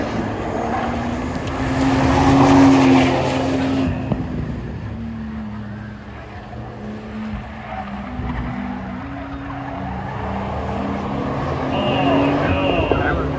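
A Porsche launches down the strip at a spectator drag race at the Freedom Factory, its engine roaring loud and close, rising to a peak after a couple of seconds, then holding a steady drone with tire noise.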